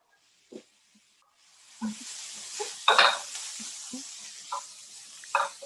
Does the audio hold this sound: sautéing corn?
yes